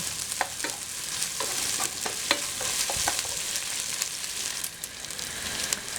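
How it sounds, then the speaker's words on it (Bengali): Chopped garlic frying in hot oil for bhuna khichuri, a steady bright sizzle with scraping stir strokes repeating every second or so, close and continuous with no voices. "রসুন কুচি দিলাম এগুলো দিয়ে একসাথে দিয়ে এগুলা একত্রে নাড়তে হবে এবং ভালো করে ভেজে নিতে হবে"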